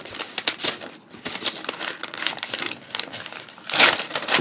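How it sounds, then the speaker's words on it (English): Cardboard and paper packaging of a Pelikan M815 fountain pen being torn and crinkled open by hand, a close run of sharp rustling rips with a louder burst of tearing near the end. "I hate to tear the whole thing."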